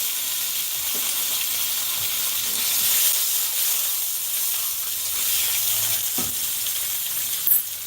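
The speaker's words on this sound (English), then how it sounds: "Gotta put that good sear on it," Steak sears in a hot pan with a steady, loud, close sizzling hiss, broken by a few faint knocks and a clatter near the end, and no talk.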